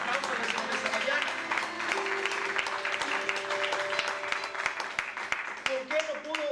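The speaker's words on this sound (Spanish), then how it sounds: "Si usted puede dar un aplauso en esta mañana." A church congregation applauds during a Spanish-language service, with steady, dense clapping throughout, distinct individual claps standing out, and voices and a held musical tone running underneath.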